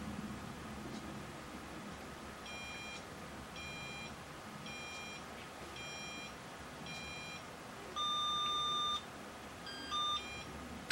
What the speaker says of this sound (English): those are the 3 descending tones to indicate that the entire programming sequence has finished